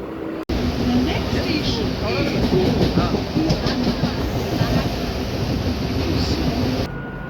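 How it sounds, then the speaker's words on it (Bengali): Steady rumble and clatter of a moving local train in India, heard from inside the carriage, loud and continuous, with faint voices mixed in. "আমরা উঠে পড়লাম লোকাল ট্রেনে।"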